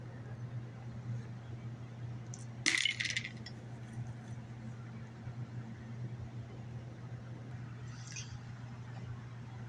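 Two six-sided scatter dice tumble across the table in a Bolt Action tabletop wargame, making one short rattling burst near the start against a constant background hum, with a faint tap later and no speech.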